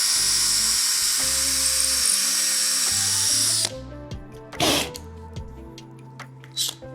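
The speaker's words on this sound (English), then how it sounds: "You're going to utilize a drill bit that is slightly smaller than the diameter of the actual screw" A power drill pre-drills a screw hole in wood while assembling an outdoor sauna, whining loudly and steadily for about three and a half seconds before stopping, followed by a few quieter handling knocks.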